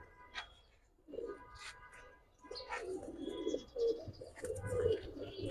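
Giribaz high-flyer pigeons coo softly nearby, low throaty calls repeating, with a few faint chirps scattered in a quiet background.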